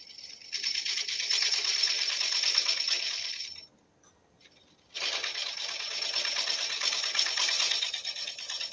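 Wood lathe spinning an unbalanced blank with a large void at about 530 RPM while a cutter takes gentle cuts, giving a steady bright hissing scrape that stops briefly near the middle and then resumes, with no talk.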